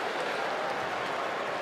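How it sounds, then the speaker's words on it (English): A cricket crowd at an England v South Africa men's match lets out a cheer, heard as a faint, distant, steady wash of massed voices and clapping with no clear peaks. "There's a cheer from the crowd"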